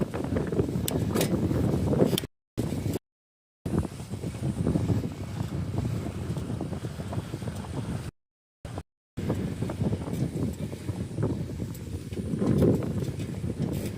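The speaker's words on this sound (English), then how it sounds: "Keep going downhill now, even though the wind is directly in our face." Wind buffeting the microphone while cycling downhill into a headwind around lakes and parks, a continuous loud roaring rush with a few short dropouts.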